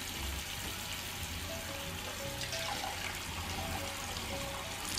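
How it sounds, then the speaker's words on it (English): C41 blix chemistry pours out of a film developing tank in a steady, continuous rush of liquid, a close, even hiss and splash that holds without pause throughout. "So I'll go ahead, I'll start to pour."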